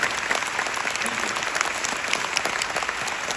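A theatre audience claps at a curtain call for the stage play The Magic Hour at the Hong Kong Academy for Performing Arts, dense, even applause throughout with no break.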